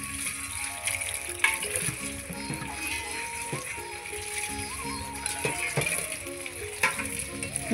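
Chicken and duck eggs fry in oil in a pan with a continuous close sizzle, spatters and occasional stirring clinks. Soft tonal music plays underneath.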